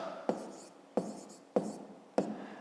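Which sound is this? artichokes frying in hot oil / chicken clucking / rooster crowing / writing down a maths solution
writing down a maths solution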